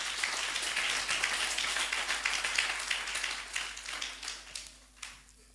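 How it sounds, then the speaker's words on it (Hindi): A church congregation claps loudly in praise of God at a Friday youth worship service, a dense, sustained wash of many hands that thins and trails off near the end. "इसके लिए हम जोरदार ताली बजाएंगे"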